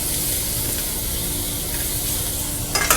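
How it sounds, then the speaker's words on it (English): Shrimp searing in a hot pan in a restaurant kitchen: a steady, dense sizzle that holds throughout, with a brief crackling flare near the end. "Take our shrimp, they're gonna be ready to turn already. We got a great sear on there."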